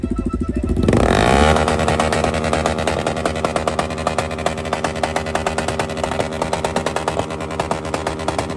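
A tuned car at a Tokyo car meet sits on two-step launch control, its engine revving hard with a rapid stuttering crackle and popping at high volume, close by and continuous, with no talk over it.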